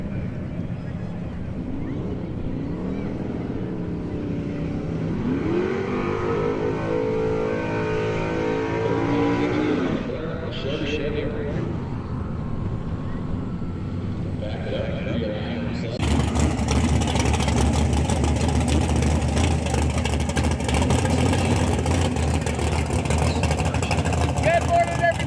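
Drag racing cars, including a full-charge Mustang, roar and rev loudly at Toronto Motorsports Park, with the engine pitch climbing under the noise, then a harsher blast of acceleration bursting in partway through. A voice talks over the engines at times.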